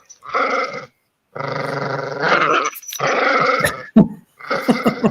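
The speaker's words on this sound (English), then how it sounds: "Meet Adam the dog" A dog growls in long, rumbling bursts separated by short gaps, with a sharp yip in between. Every sound is close and loud, and nobody talks.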